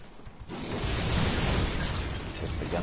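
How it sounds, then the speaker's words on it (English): Rapid, dense bursts of gunfire in the video game Bloodborne crash in after a brief quiet start, loud and continuous with sharp pops and blasts throughout. "Just the gunfire."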